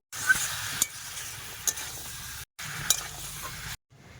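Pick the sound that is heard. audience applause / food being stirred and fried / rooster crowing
food being stirred and fried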